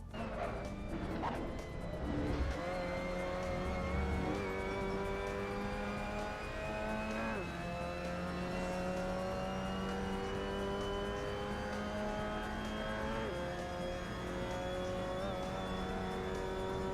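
Race car lapping Oulton Park circuit in a racing video game, engine holding a steady high drone with rising pitch sweeps and brief dips at shifts, loud and continuous with no talk.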